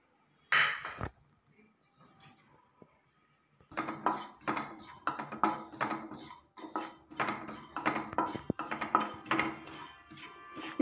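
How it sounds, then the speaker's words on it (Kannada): Sesame seeds being dry-heated in a pan for ragi burfi: a few light taps at first, then repeated metal clinks and scraping as a utensil stirs the seeds, close and moderately loud. "ಸ್ವಲ್ಪ ಎಳ್ಳನ್ನ ಬಿಸಿ ಮಾಡ್ಕೊಳ್ಳೋಣ"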